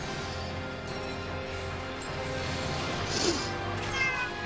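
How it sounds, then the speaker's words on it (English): A pet cat meows from inside a cat cage, one clear drawn-out cry rising over a steady, moderately loud background. "He's sitting there in the cat cage going, Dad, let me out on the veranda with you."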